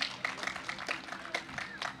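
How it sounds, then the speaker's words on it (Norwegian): Scattered hand clapping from a small outdoor crowd at a cannabis rally for drug policy reform in a city square, with distinct individual claps over a thin, uneven applause. "La oss gi Roar Michaelsen og Are en stor applaus for alle ting vi har oppnådd i dag og denne aksjonen"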